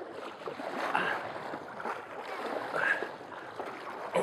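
Boat paddled on a river by several people pulling in different directions, soft splashing and dipping strokes with water swishing at an uneven rhythm, close and fairly quiet.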